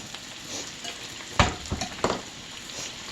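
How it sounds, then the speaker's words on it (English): Butter melts and sizzles in a pan beside turkey Salisbury steak, a soft steady fry broken by a few sharper scraping stirs near the middle. "And let that butter melt in there."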